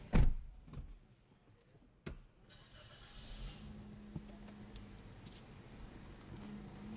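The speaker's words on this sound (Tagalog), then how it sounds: "Start natin yung auto." A 2019 Toyota Vios E sedan starts up: a loud clunk and jingle of keys, a brief crank and catch, then a low, steady idle hum continuing at moderate volume.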